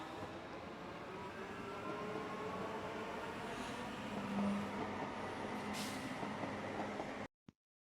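Steady close rumble of a metro train running on its tracks, with rolling wheel noise and faint high squeal, cutting off abruptly near the end.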